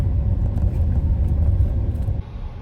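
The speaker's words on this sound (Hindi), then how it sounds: "देखो गाइस, गाड़ी चल रही है" An automatic car cruises along a road, its low, steady engine and road rumble filling the cabin with a constant drone that drops a little near the end.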